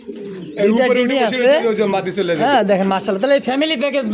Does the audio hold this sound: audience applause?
no